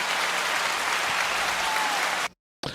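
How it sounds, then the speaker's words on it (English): Applause from a podcast audience rings out steadily and densely for about two seconds, then cuts to silence before a brief burst of clapping returns. "Round of applause for us."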